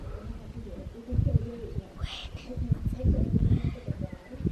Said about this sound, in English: Normally it's a pigeon.